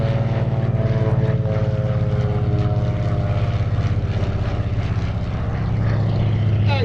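Lockheed 12A Electra Junior twin propeller aircraft flying past at an airshow, a loud steady droning engine roar with rhythmic propeller beat throughout, a commentator's voice faintly under it.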